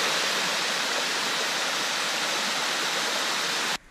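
Cristo Rey falls in Belize roars steadily up close, a dense broadband rush of falling water that cuts off abruptly at the end.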